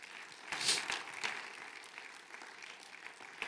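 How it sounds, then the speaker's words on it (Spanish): A church congregation claps for the Lord during a sermon: a moderate, somewhat distant burst of applause that swells early and then settles into lighter, scattered clapping. "denle un aplauso al Señor"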